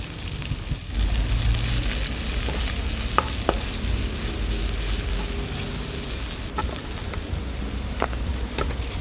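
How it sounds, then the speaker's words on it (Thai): Garlic and chili stir-fry in hot oil in a wok, a loud steady sizzle close up, broken by occasional scrapes and knocks of a spatula over nine seconds of cooking. "ตั้งกระทะใส่น้ำมันลงไป น้ำมันร้อนเราก็จะเอากระเทียมกับพริก ลงไปผัดให้หอมหอม"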